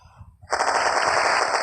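A rapid burst of automatic gunfire erupts in a zombie shooter video game. After a short quiet moment it becomes a loud, dense, continuous rattle that runs to the end of the clip.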